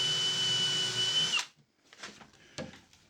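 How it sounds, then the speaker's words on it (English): A power drill drives a screw into wood until it sits flush, a loud steady whine for over a second, then stopping abruptly, followed by a few faint clicks and handling knocks. "Let's try to screw in until it comes up flush."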